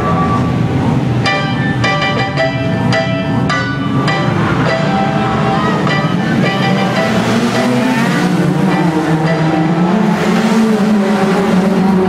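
Rookie rods race cars accelerating together at Arlington raceway, engines roaring loudly and continuously as the pack gets underway, with a brief electronic beep tone near the start and faint commentary beneath.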